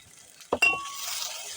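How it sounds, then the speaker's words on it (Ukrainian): Carrots and bell pepper fry in a pan, with a sharp utensil clink and a scrape against the pan followed by a quiet continuing sizzle, brief and close. "Так, перемішую. Хай ще підсмажується."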